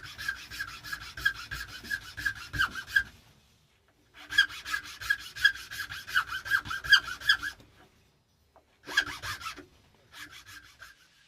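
A hand tool cuts band grooves into a yew wood slingshot fork, making close, rhythmic rasping strokes in three separate bursts with short pauses between them.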